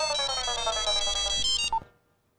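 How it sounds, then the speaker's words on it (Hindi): A mobile phone ringtone plays a loud, bright electronic melody with repeating tones, continuous for under two seconds before cutting off abruptly into near silence. "सर फोन बज रहा है।"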